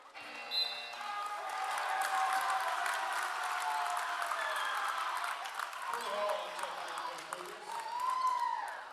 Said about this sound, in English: Student section cheering to get Crew Holland in the game for his varsity appearance.